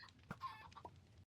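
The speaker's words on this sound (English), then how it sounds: "you can probably hear my Minecraft audio in the background with the chickens" Chicken clucking from Minecraft game audio, a few short clucks close together picked up in the background of a live stream with no talk.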